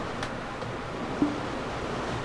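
Water lapping against a ship's hull while sailing the open sea in Black Desert Online, a steady wash of surf-like noise with a small splash about midway, heard alone.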